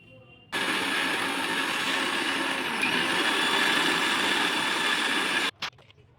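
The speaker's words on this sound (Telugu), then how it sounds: "ఇదే విధంగా మిగిలిన మీగడను కూడా గ్రైండ్ చేసుకోండి." A mixer grinder churns milk cream at high speed in a home kitchen, a steady loud whir lasting about five seconds before cutting off abruptly, followed by a brief clatter.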